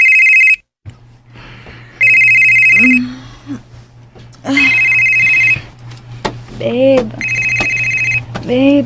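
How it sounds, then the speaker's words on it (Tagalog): A cellphone ringtone sounds loudly in a domestic radio drama, repeating electronic bursts in regular bars with short gaps, over a steady low hum while voices speak between and beneath the rings. "tubag ang imong cellphone"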